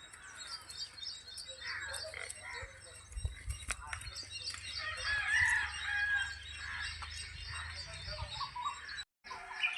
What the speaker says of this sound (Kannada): ತುಂಬ ಕೋಳಿ ಇದಾವೆ ಎಲ್ಲ ಜವರಿ ಕೋಳಿ